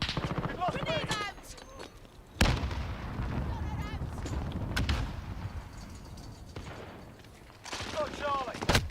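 A grenade blast in a video game, a sudden loud boom that rolls into rumbling over continuous battle noise, with people talking before and after it.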